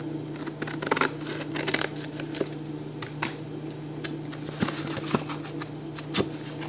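Scissors cut through craft material in a run of crisp, close snips and rustles, with the blades closing at irregular intervals and no talk.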